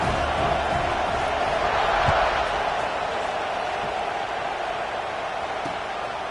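Dense football stadium crowd roaring and cheering as the kickoff unit takes the field, a steady wash of voices that swells briefly near the middle before easing slightly.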